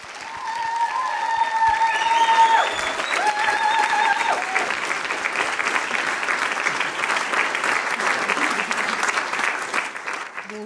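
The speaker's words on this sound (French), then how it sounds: "de l'applaudir d'abord petit à petit, un petit applaudissement, un petit peu, puis de plus en plus fort pour l'excellente Manon" Applause from a stand-up comedy audience welcoming comedian Manon, swelling from scattered claps into a dense, sustained ovation that holds steady and loud without any talk over it.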